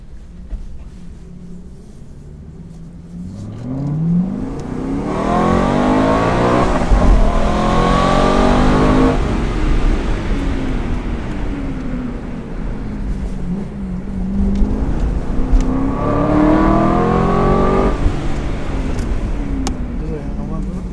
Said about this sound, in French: Donc là on est décapoté, du coup on va bien pouvoir entendre le son du V8.